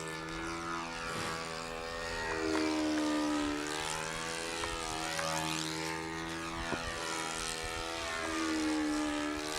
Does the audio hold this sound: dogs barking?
no